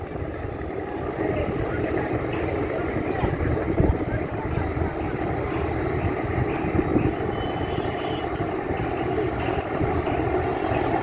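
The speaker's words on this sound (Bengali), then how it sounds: "দেখতে পাচ্ছেন একটা লঞ্চ আসছে হয়তো বরিশালের হয়তো পটুয়াখালীর" A passenger launch approaching on a river in Bangladesh gives off a continuous low engine drone with broadband rumble and water noise, steady and fairly loud throughout.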